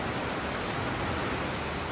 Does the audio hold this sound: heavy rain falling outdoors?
yes